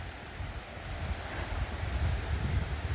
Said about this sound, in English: Some stages of the river is fast flowing, other stages isn't.